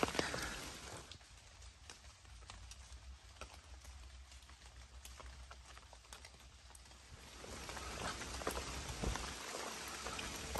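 Steady rain patters on a surface close by on the Appalachian Trail, dense and hissing, growing a little heavier toward the end. No one speaks.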